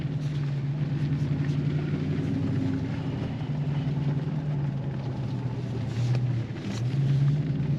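The supercharged Dodge Challenger SRT8 is out on a drive, with a steady close engine drone and road rumble running throughout, its pitch dipping and rising briefly near the end.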